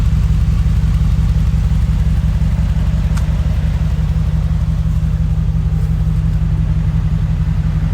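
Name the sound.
Brabus G700 engine running through exhaust pipes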